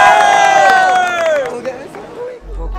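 A crowd at a Brazilian street rap battle semifinal (Batalha da Aldeia) roars and cheers loudly, with one strong voice shouting a long falling cry over the noisy, bustling audience.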